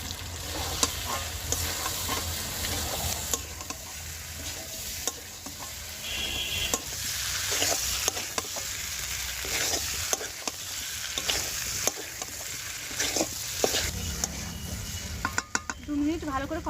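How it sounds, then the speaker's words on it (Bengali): Potato and cauliflower pieces are stir-fried in spiced oil, producing a loud, continuous sizzle with repeated scraping and clattering of a spatula against the pan, and a few metallic knocks near the end. "এবার আলু আর ফুলকপি ভাজাটা আমি দিয়ে আরও দু মিনিট কষিয়ে নেবো"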